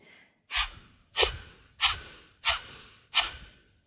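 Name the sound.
sharp exhalations through the nose, yoga breathing exercise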